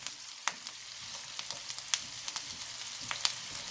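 Seafood stirred with thick gochujang hot pepper paste, minced ginger and garlic in a hot pan gives a soft, steady sizzle broken by repeated sharp clicks and scrapes from the stirring utensil.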